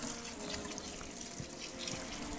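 Water runs steadily from a tap to wet freshly cast pieces, a soft continuous splashing rush that stays faint and even with no talk over it.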